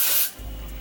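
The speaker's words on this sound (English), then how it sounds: "we spray the inside of the wig" A short, close burst of hair spray hisses into the inside of a wig, then cuts off to a low background hum.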